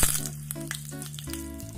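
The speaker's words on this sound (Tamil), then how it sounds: "ஒரு பேன்ல எண்ணெயை ஹீட் பண்ணி கடுகு சீரகம் கருவேப்பிலைய சேர்த்துக்கறங்க" Mustard seeds, cumin and curry leaves sizzle in hot oil in a pan for tempering, a steady crackling fry under a tonal musical backing throughout.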